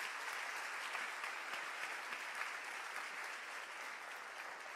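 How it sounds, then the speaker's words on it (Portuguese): A church congregation applauding, a dense, even wash of many hands clapping together, sustained and steady for several seconds with no voices over it. "Você pode dar um aplauso bem forte a Jesus?"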